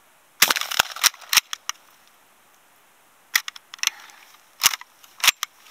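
Sharp reports from a UTAS UTS-15 12 gauge pump shotgun, with clacking shucks of the pump action between shots, heard in two clusters of crisp transients separated by a short pause, fairly close and loud.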